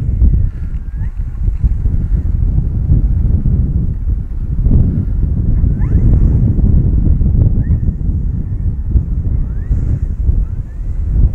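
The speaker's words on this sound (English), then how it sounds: "That's just the wind hitting that big old tail." Steady, loud wind buffeting the microphone as an E-flite Carbon Z T-28 RC plane taxis on the ground, a continuous low roar with faint higher whines and no speech.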